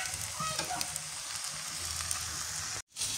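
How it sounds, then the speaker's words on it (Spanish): Salsa fries over low heat in a pan for rajitas con crema, a steady close sizzle and crackle with scattered spits and stirring sounds, briefly cutting out near the end. "Aquí ya estoy friendo todo para que amarre el sabor."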